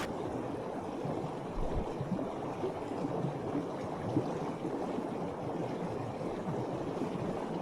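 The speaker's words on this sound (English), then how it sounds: "Got some little waterfalls tumbling down over." Blackabrook, a small moorland brook, tumbles over little waterfalls in a steady, close rush of water that runs without a break under gusty wind noise, with no voices.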